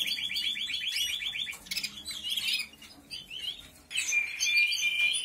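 Small birds in a nest box chirp and squawk in rapid, busy bursts, with a fast trill at the start and a sustained high call near the end, close and fairly loud throughout.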